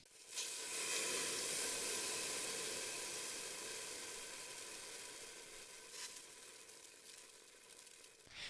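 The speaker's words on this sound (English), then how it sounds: "Let's go with the pan sizzle next." A pan sizzles with a loud, steamy hiss that swells quickly, then slowly thins and settles into a softer crackle, meant to stand in for rain.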